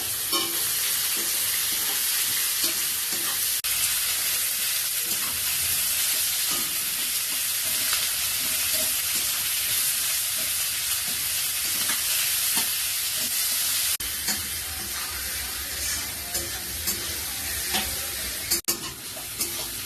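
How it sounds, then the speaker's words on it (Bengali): Chopped onions frying in a pan for a home-style thin chicken curry, a loud, constant sizzle with scraping stir strokes throughout and no talking. "পেঁয়াজটি লাল লাল করে ভাজা হয়ে গেছে"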